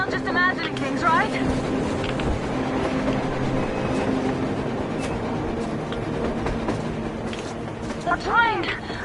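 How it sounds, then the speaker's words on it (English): In the video game Metro Exodus, a train rumbles on the surface amid a blizzard, a steady mechanical drone with wind, while voices talk over it. "A train! A damn train on the surface!"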